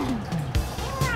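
A cat meows close by, a few short drawn-out cries at a moderate level.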